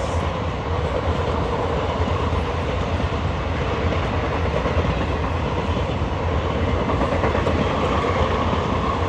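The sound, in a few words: Udaipur City–Bikaner Express train passing on crossing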